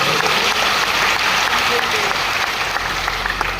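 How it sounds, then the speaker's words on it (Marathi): Loud, dense applause from a large audience at a political women's award gathering in Amravati, continuous clapping filling the whole clip, with a voice faintly mixed in. "त्याचं जोरदार टाळ्या"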